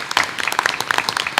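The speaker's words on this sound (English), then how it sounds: "one more round of applause for our 2 art award recipients." Audience applause for two art award recipients at a school district board of education meeting, a sparse, moderately loud patter of individual claps filling a short stretch without talk.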